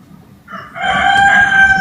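A rooster crows once, loud and close, the call rising after a brief soft lead-in and holding a bright, strained tone to the end with no voices.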